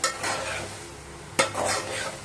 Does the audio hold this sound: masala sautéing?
yes